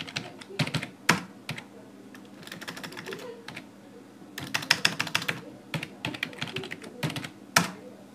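Someone types a password on a computer keyboard while setting up a Samba server on a Raspberry Pi. Close, quick keystroke clicks come in irregular bursts with short gaps, and no one speaks.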